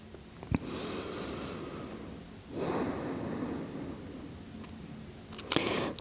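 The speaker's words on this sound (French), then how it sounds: "Trois grandes respirations." Slow, deep breaths during a power yoga session, a soft drawn-out exhale followed by a stronger breath mid-way and a short sharp intake near the end, close and fairly quiet with no talking.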